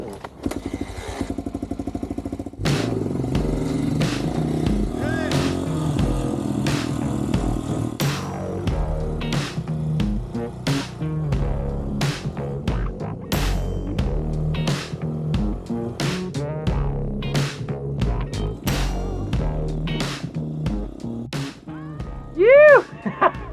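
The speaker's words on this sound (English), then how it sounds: "We're going to head out into the mountains on my vintage Enduro." Vintage enduro motorcycle ridden out into the mountains, its engine revving up and down in repeated surges through gear changes, loud and close throughout, with a sharp rise near the end.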